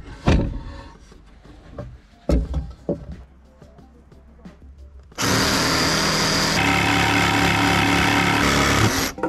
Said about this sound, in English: So I've opted for a jigsaw.